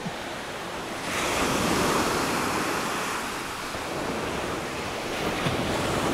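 Sea waves break and wash ashore at Cleopatra Beach in Alanya, Turkey, in January: a loud, continuous surf roar that swells around one second in, with some wind buffeting the microphone.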